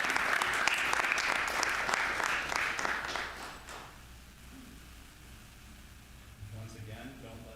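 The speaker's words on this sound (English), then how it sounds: "Let's give Sean another round of applause." Applause from attendees at a virtual school board of education meeting, a steady patter of clapping that fades out after about four seconds, leaving quiet room tone with a faint voice near the end.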